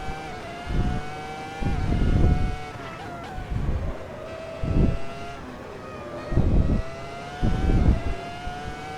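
A Ferrari F2004 Formula 1 engine in Assetto Corsa screams at high revs, rising and falling with repeated upshifts and braking downshifts, loud and steady from the cockpit, with no talk.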